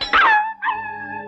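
A dog lets out a sharp, close yelp and then a drawn-out whining cry, loud and alone with no voices around it.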